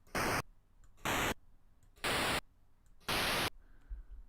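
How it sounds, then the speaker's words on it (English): Four evenly spaced bursts of loud, hissy noise, each about a third of a second, separated by short gaps with a faint background hum. "It's all noise, but the pitch just changes"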